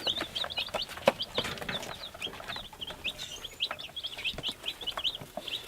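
Americana and Bantam baby chicks on their first day cheep continuously in high, overlapping peeps, with scattered soft taps and scratches from pecking nearby.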